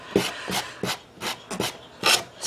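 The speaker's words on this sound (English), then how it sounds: "sand it down," An emery board rasps in quick back-and-forth strokes against the edge of a small papercraft display. About seven short, even scrapes sound close-up, with nothing else heard.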